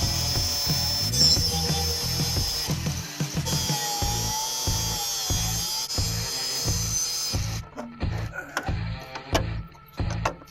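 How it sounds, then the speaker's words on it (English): A grinder cuts off the tip of a rusty bolt on an old Dodge truck cab, a close, loud whining grind in pulsing bursts that stops near the end, leaving clanks. "So let's just grind off the tip"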